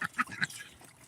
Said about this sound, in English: We got a couple ducks quacking right there